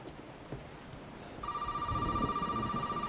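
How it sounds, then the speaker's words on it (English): A telephone rings in the horror game Resident Evil 7: Biohazard, a steady electronic tone that starts partway through over low, quiet background ambience. "Oh, the phone's ringing."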